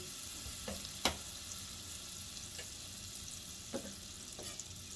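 Butter melting and frying in a pan for a steak sauce gives a faint, steady hiss with a few small pops and one brief sharper tick.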